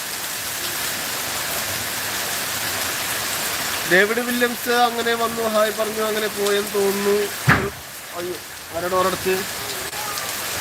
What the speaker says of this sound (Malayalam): നല്ല മഴയുണ്ട്, കാറ്റുണ്ട് ചെറിയ രീതിയിൽ.